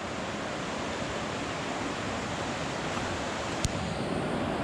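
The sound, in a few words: Lochsa River water flowing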